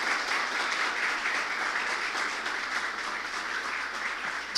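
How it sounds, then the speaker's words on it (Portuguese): A church congregation claps strongly for a pastor, producing a sustained, even roar of applause throughout, with no voices standing out. "Aplauda bem forte, irmãos"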